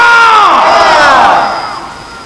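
A large crowd at a Bengali religious gathering roars the chant Nara-e-Takbir, Allahu Akbar in unison, loud and close, the massed voices swelling then fading away.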